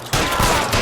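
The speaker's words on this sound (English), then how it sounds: "Suppressing fire!" Loud, close gunfire in the crime video game L.A. Noire during a firefight at an electroplating plant, a few sharp broadband bursts in quick succession under a dense, noisy backdrop.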